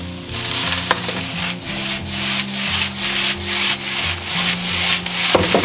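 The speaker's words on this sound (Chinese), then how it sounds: "先给它翻炒均匀" Curry fried rice with water chestnuts and other vegetables stir-fried over high heat, a loud, close, rhythmic scrape and toss of the spatula in the wok repeating steadily over a soft sizzle, with no talking.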